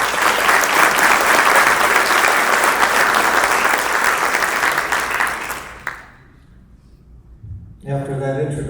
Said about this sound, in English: A round of applause for an icon in this industry